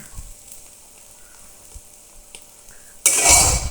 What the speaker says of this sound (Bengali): এখন আবার ডিম ভাজি করতেছি